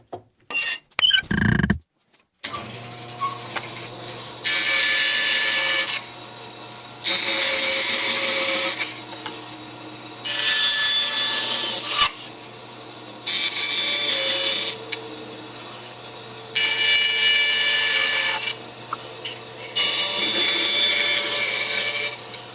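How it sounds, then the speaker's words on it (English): A hand tool notches a wooden block to seat the end of a spar, in repeated rasping strokes of a few seconds each. The strokes are separated by short pauses over a steady low background hum. "I'm going to notch this block so the end of the spar fits into it"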